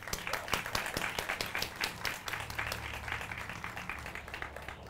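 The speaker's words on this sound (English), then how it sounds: "Meredith, the visionary behind this studio, deserves a warm round of applause." Small group applauds at a ribbon cutting for a barre fitness studio, sharp distinct claps near at first, thinning into a softer patter over a low hum.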